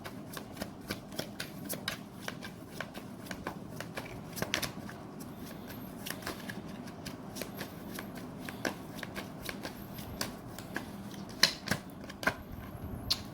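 Tarot cards shuffled and drawn, a steady run of soft riffling slaps and crisp flicks at close range with occasional sharper snaps, no voices.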